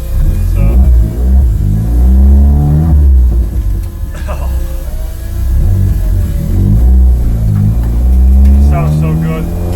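A freshly built turbocharged car's engine runs steadily after starting, with a loud low rumble that rises and falls slightly with the throttle, while a voice talks over it.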